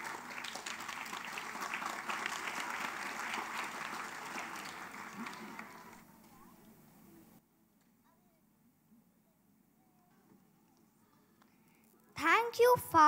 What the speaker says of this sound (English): That's what we are giving a big round of applause to all the teachers.